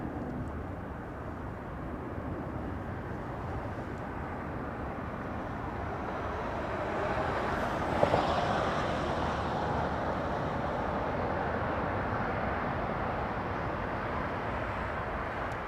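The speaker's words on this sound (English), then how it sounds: "A 757 flying in from Reagan National." A Delta Air Lines Boeing 757 arrives at Los Angeles International Airport, with a distant, moderate jet rumble that swells slightly near the middle and then stays level.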